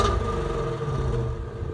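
A Ford Mustang Shelby GT350R engine in normal mode idles with a steady low, throaty rumble and a faint whine, close and fairly loud with no talking.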